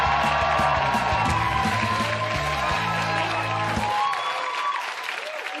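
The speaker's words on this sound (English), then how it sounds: "let's give a big round of applause" A talk show studio audience claps loudly, with a dense burst of applause for about four seconds before it quickly fades out.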